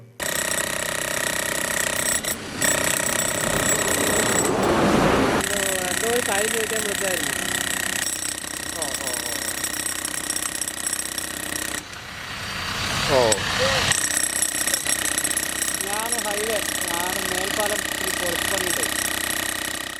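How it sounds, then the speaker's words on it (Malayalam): A jackhammer breaks up concrete at a damaged joint on the Vadakkanchery highway flyover, on the Thrissur-bound six-lane carriageway. Loud, continuous rattling pounding runs throughout, with someone talking over it. "തൃശൂർ ഭാഗത്തേക്കുള്ള പാലത്തിലാണ് കുത്തിപ്പൊളിച്ച് പണി നടക്കുന്നത്"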